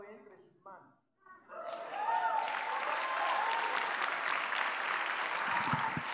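A church congregation breaks into applause during a sermon: a preacher's voice is heard briefly, then a dense, sustained wash of clapping swells up and holds steady, with cheers and voices mixed in.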